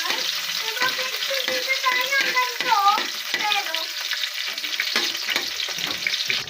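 Garlic fries in hot oil until it turns brown, giving a dense, steady close-up sizzle with occasional stirring. A faint voice comes through briefly.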